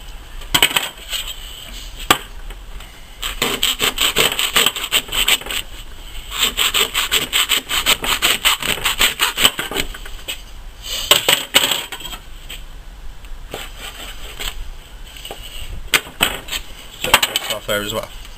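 A knife trims a venison loin with rapid, repeated scraping and rasping strokes. The strokes are close and fairly loud, coming in dense runs that continue steadily with only brief pauses.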